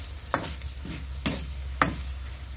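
Ararawan fries in a pan while a utensil stirs it, three scraping strokes over a steady sizzle, close and clear.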